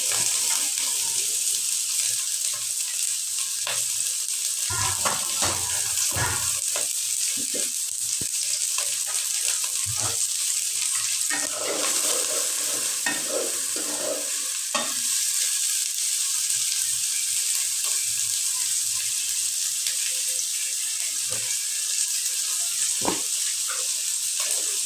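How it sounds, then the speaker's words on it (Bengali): Sliced onions, a few green chilies and garlic cloves dropped into hot oil in a pan, giving a steady, bright sizzle throughout with occasional stirring clatters and scrapes close by, no talking. "তেল গরম হয়ে গেছে, এর মধ্যে দিয়ে দিলাম পেঁয়াজ, দিয়ে দিলাম কয়েকটা কাঁচামরিচ, দিয়ে দিলাম কয়েকটা রসুন"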